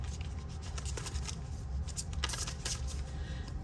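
A deck of tarot cards is shuffled quickly, giving a run of crisp riffling and flicking bursts over a low background hum, fairly close and with no talk.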